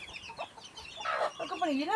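Chickens, with chicks, clucking close by in a Konkan village in a short, irregular burst, with one rising and falling call standing out near the end.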